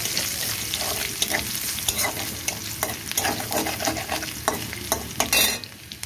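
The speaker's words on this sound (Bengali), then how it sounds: "রসুনটাও এবার একটু ভাজা ভাজা করে নেবো।" Garlic fries in hot oil in a pan with a constant close crackling sizzle while a spoon stirs and scrapes in repeated quick strokes.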